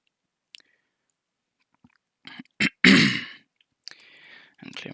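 A man clears his throat with a short burst of rough, gravelly rasps and a couple of brief coughing sounds, close up and fairly loud, surrounded by quiet pauses and small clicks.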